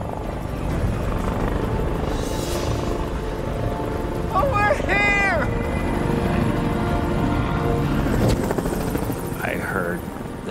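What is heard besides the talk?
helicopters approaching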